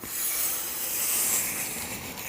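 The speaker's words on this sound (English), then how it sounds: "just give everything a very, very light scuff with 600 grit" Light scuffing of car paint with 600 grit sandpaper on a VH Charger, a continuous close, soft hissing rub with no talking.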